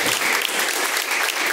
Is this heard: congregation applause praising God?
yes